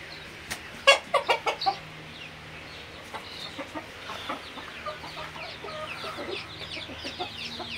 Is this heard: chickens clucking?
yes